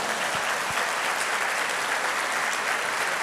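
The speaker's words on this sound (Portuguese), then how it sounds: "Uma salva de palmas para essa pegadinha de Jesus, por favor." A church congregation breaks into steady, dense applause, a uniform wash of clapping held at even loudness throughout.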